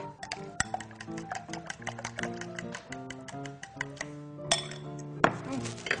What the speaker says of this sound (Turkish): Bunu iyice karıştıracağız. Çatalla yap istersen rahat olsun.